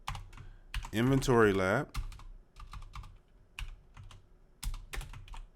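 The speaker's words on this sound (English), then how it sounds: "this gaming keyboard is killing me" Keys on a gaming keyboard clatter in quick, uneven bursts of clicks, close and fairly loud, while a person talks over the typing.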